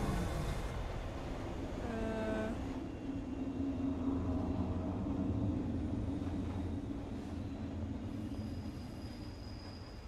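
Inside a horror video game (Train 113), a metro train runs with a steady, close rumble and a brief high wheel squeal early on, then rolls on evenly with no voices.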